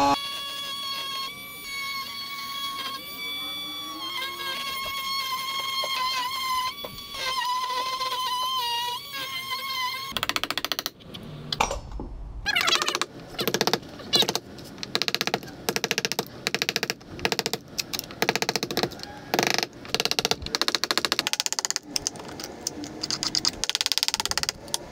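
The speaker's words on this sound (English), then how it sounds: "We're going to use our same multi-tool and cut out our trace line now." An oscillating multi-tool cuts out a rotted wood door jamb along a traced line, buzzing close and loud in short choppy bursts with pauses between passes, after a stretch of tonal whine.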